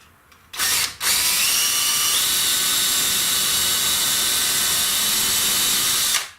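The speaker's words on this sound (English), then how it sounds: "now I gotta pre-drill all these holes" Power drill pre-drilling screw holes into a tiny house ceiling, a loud, close, steady whine running for several seconds after a short start, then cutting off.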